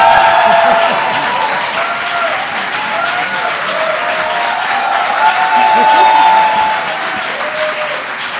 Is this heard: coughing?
no